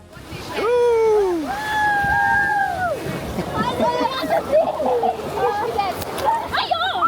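Water sloshes and splashes amid excited shouting and squealing voices, loud and close, with bursts of spray between the cries.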